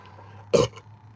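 A single short burp from a person, loud and close, lasting about a quarter second in a quiet room with a faint background hum.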